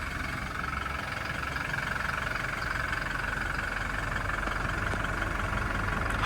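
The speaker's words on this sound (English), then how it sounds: "We're gonna go have a quick listen to that engine from the outside." Toyota Hilux GD-6 RS Legend with a 2.8-litre diesel engine idling, heard from outside the vehicle: a steady, even diesel idle hum at moderate level, continuous throughout.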